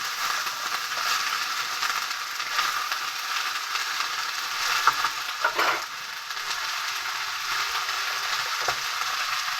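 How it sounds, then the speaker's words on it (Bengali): Chopped cabbage and potato fry in a hot pan with a steady, loud sizzle and crackle, broken by a few sharp scrapes and knocks as the vegetables are stirred; no voices. "এবার আমি কেটে রাখা বাঁধাকপি আর আলুটা দিয়ে দিচ্ছি। ভালোভাবে একটু নেড়ে নিচ্ছি।"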